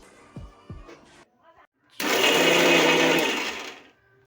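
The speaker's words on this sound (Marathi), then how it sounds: "आपण जो चिरलेला ओला लसूण आहे त्यालाही थोडंसं हलकं फिरून घेणार आहोत" A mixer grinder whirs loudly for about two seconds as it briefly pulses chopped fresh green garlic, starting abruptly and tapering off, after a few knocks and rattles of the jar being set up.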